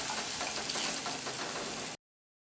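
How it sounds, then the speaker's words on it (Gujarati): Steady, dense sizzling of spices sautéing in a hot pan for Kathiyawadi eggplant bharta, loud and close, continuing unbroken until it cuts off abruptly near the end. "મિક્સ કરી મસાલા સાતળી લેવાના"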